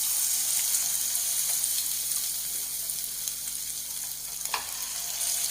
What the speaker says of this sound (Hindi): चिकन तैयार हो जाता है, इसमें डालेंगे और 1-2 मिनट इसको पकाएंगे